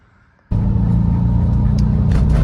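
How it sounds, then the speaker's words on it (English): A car crosses a bridge. After a quiet half second, a loud, steady low road rumble and engine drone start abruptly and continue without a break from close inside the vehicle. "Driving across the bridge."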